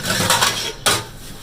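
Dishes, pots and pans being washed in a home kitchen after cooking lunch and a curry, with a steady clatter and rinse that swells into a sharp burst of clinking near the end.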